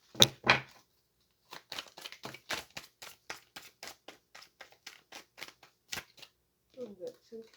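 Tarot cards being shuffled and drawn by hand: a rapid series of crisp flicks and slaps, close and distinct, with a brief pause before them and a short voice at the end.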